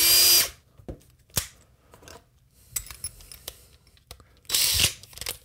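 A power drill with a drill bit works a 3D printed plastic part in short bursts, with a loud whir at the start and again near the end, and scattered clicks and handling noises between.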